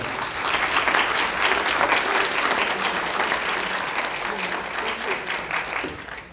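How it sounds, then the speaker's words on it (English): Audience clapping after a panel discussion session, a dense steady wash of many hands filling the whole stretch, fading slightly toward the end. "If you can give them another round of applause."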